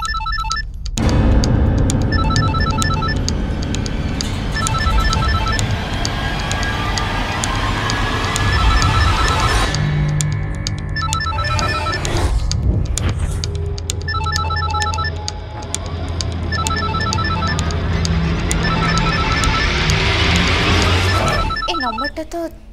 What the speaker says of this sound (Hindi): तम फोन रिंग होची